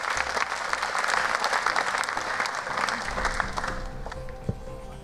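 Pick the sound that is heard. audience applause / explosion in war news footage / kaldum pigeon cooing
audience applause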